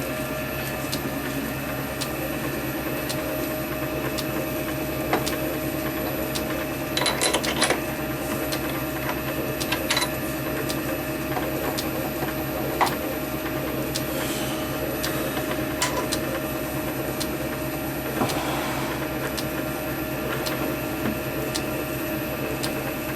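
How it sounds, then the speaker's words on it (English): A metal lathe machines a ball handle down to size, giving a steady, continuous mechanical whir with a constant tonal hum and occasional sharper ticks and cutting scrapes, without talk. "I'm going to machine this all the way down to this measurement here."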